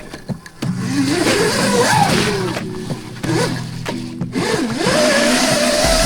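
A 16 kW ETM RTR electric RC car whines loudly as its wheels spin in deep mud, the motor pitch rising and falling in repeated bursts with brief pauses between.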